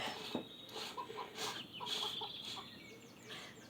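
Hens cluck in the Lost Lands video game, with a run of short clucks and chirps at moderate level over a soft ambient bed, no talking.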